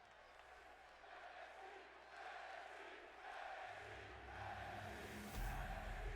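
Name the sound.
rowdy arena crowd in video game WWE 2K22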